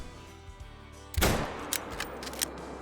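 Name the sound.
rifle shot with Argus scope, video game Call of the Wild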